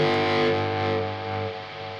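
An electric guitar plays through a noisy distortion effect, a single sustained buzzing chord that rings out and slowly decays with a hissy edge, with no talking.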